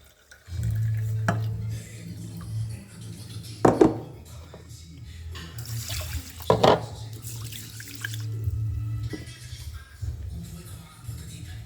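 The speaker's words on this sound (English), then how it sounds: "So we will add the water" Water is poured into a cooking pot for rice or bulgur, with a couple of louder splashing pours against a steady low hum, a few faint clinks between.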